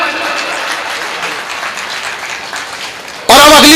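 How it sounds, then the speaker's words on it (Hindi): An audience at a Hindi comedy poetry show claps for about three seconds in a steady wash of applause, then a voice abruptly starts speaking loudly. "और तालियां तो अब चाहिए"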